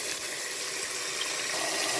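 Tap water runs steadily into a cooking pot for Jamaican goat head soup (mannish water), a continuous even gush lasting the whole moment with no talk.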